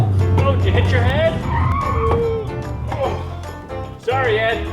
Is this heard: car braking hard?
yes